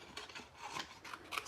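Scissors snipping through stamped paper flowers, a series of soft, close, rasping cuts in quick succession.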